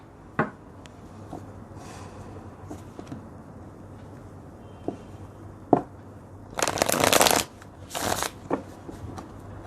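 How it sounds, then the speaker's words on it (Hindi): Tarot cards are shuffled and drawn close by, with scattered soft taps and flicks and then two loud riffling bursts near the end, heard alone without talk. "तो हमें और कार्ड्स निकालने होंगे जिससे और क्लियर हो पाए।"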